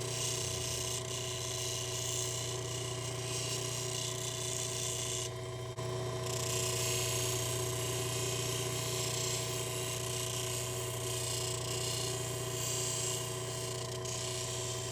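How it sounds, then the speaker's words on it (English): A lapidary polishing wheel at 3000 grit working a blue lace agate cabochon, a steady loud motor whine with a continuous rasping hiss of stone against the wheel, briefly easing once. "We're just about done on the 3000 grit wheel."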